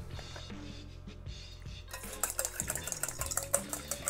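Egg and a splash of milk whisked together in a bowl for a pastry wash, quick clinking and scraping strokes growing louder and busier after a quieter start, close by with no talking.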